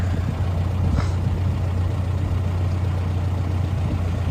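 A 2014 John Deere 410K two-wheel-drive backhoe engine idles nearby with a steady, low, even rumble that holds constant throughout, with no talking.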